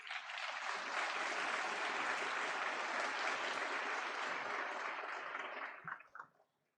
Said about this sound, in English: Loud applause, everyone from all sides